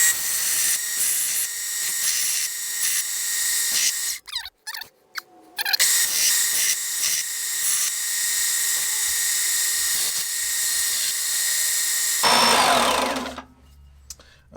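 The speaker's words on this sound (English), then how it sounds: "let's go over to the belt sander" A belt sander grinds the mushroomed edge of a vintage Swedish axe head with a loud, high whirring hiss. The whir cuts out briefly as the steel is lifted and repositioned, then runs steadily before spinning down at the end.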